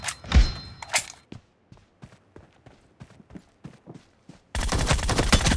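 Gunfire in the mobile battle game PUBG Mobile: a string of sharp, separate shots at a brisk uneven rhythm, followed by a sudden dense burst of noise at the end.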